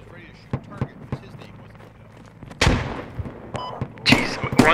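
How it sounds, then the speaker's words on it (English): Enemy gunfire in a tactical military shooter game on the Gorodok map sounds as scattered sharp shots, then louder, denser bursts of fire in the second half, mixed with someone talking. "Heard enemy fire close to me somewhere."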